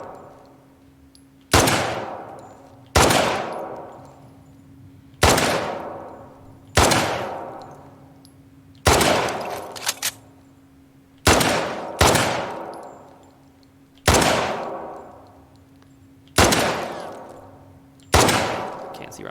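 About ten pistol shots in The Last of Us Part II, fired one by one every second or two. Each is a sharp, loud crack with a short, fading tail.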